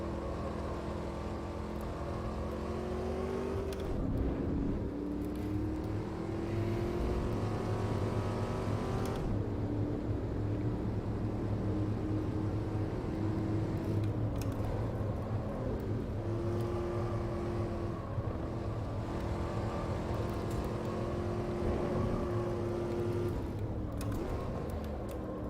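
A Camaro SS race car engine in Automobilista, on the Mas du Clos circuit, droning steadily loud with rising revs, upshifts and downshifts throughout, no talking.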